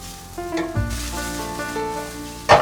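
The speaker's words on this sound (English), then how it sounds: "So you just saute this." Shimeji mushrooms sauté in a pan for Italian risotto, a steady sizzle with a soft stirring scrape and a sharper clatter near the end, close and with no talk.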